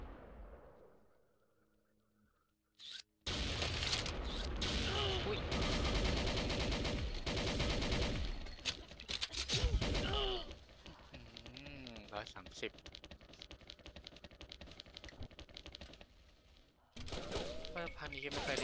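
Gunfire in the shooter XSHOT rattles in dense, rapid bursts after a near-silent opening, thinning out in the middle and resuming at the end, with a person speaking over much of it.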